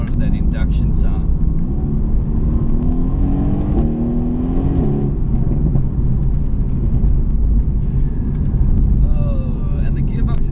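A 2018 Mercedes-AMG GT S with a twin-turbo V8 rumbles under acceleration, a steady deep engine drone with rising pitch sweeps as the revs climb, heard from inside the cabin.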